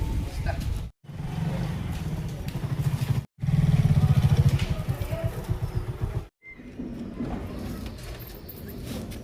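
A motorcycle engine runs with a steady low, pulsing throb that comes and goes in three short bursts, broken by brief cuts of silence, with faint voices in the background.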